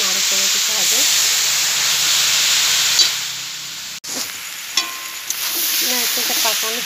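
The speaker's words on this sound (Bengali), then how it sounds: "নারকেলটা পাকানো হচ্ছে। এইভাবে পাকাতে পাকাতে যখন নারকেলটা টাইট হয়ে যাবে তখন নাড়ু করে দিতে হবে।" Grated coconut is stirred and cooked down in a pan for naru: a loud, steady hissing sizzle with occasional scraping knocks of the spoon, close up, while a voice speaks intermittently over it.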